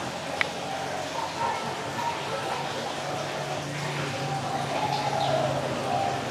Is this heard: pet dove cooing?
yes